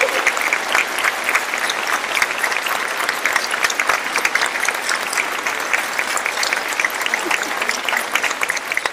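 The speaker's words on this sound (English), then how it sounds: "Please join me in a round of applause to say a sincere thank you to these great educators" Audience applause for educators at a Teacher of the Year celebration, a steady wash of many hands clapping at even loudness for the full span, with no talk over it.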